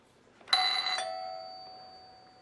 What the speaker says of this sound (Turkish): Ben zili nereden hatırlıyorum ya bu?